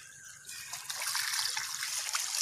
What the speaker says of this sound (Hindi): ये छोड़ दीजिए पानी जी, बस छोड़ दीजिए, छोड़ दीजिए।